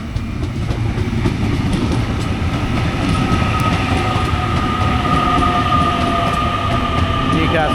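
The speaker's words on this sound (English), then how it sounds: "Newcastle bound train." A Newcastle-bound passenger train on the Sydney line rumbles steadily close by, with a constant low roar, clattering wheels and faint rising squeals throughout.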